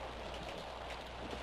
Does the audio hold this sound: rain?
yes